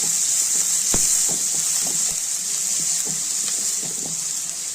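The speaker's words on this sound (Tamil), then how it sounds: "ஒரு அஞ்சு பல் பூண்டு சேர்த்துருக்கேன் ஒரு மூணு பச்சை மிளகாய் எல்லாமே நல்லா வதக்கிக்கலாம்" Garlic cloves and green chillies sautéing in a pan for a greens kootu, a steady bright hiss of frying with soft scattered taps of a spatula against the pan.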